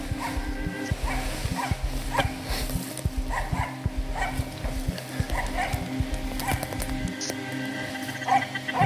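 A hunting dog barks in a Swedish forest during a hunt, a rapid steady run of barks continuing under a voice.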